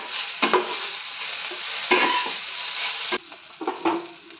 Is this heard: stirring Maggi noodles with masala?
yes